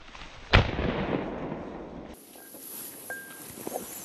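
A single loud shotgun blast during a late-season pheasant hunt, outdoors with a sharp report and a trailing rumble, followed by wind and faint field noise.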